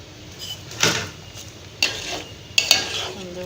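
A spoon stirs boiled vermicelli and sugar in a pan for a home-made Bangla semai barfi, giving three or four soft, close scraping strokes against the metal over a faint background hiss.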